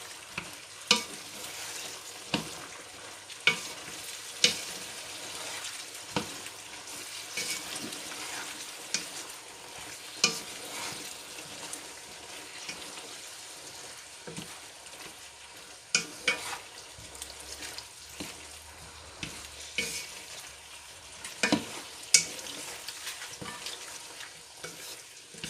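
Penne simmering together with petit salé in sauce, stirred by a spoon that scrapes and clacks against the pan at irregular intervals over a low, steady bubbling, with no talking.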